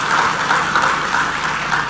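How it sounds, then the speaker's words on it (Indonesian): Crowd applause in a large mosque gathering for the army and police, a continuous even patter of many hands clapping throughout, no voices above it. "Berikan tepuk tangan untuk TNI dan Polri kita."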